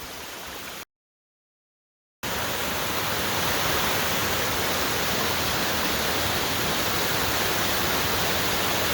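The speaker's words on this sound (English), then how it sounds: "a little water crossing here at Wilson Falls" Wilson Falls on the Wilson River trail in low flow, a steady, dense rush of falling water filling the scene at close range, briefly cut out near the start before resuming unbroken.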